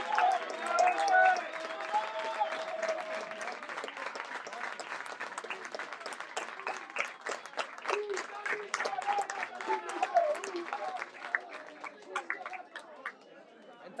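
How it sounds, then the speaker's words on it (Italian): A football crowd applauds a substituted player leaving the pitch, with dense, steady clapping mixed with crowd chatter and voices throughout. "Tanti applausi per Serio che esce."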